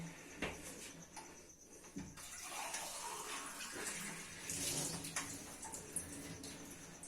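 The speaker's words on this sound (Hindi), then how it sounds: "सबसे पहले पैन में थोड़ा सा पानी डाल लेंगे" A small amount of water is poured into a cooking pan, a soft, continuous splashing stream that rises and falls over several seconds, fairly quiet and close by, with no talk.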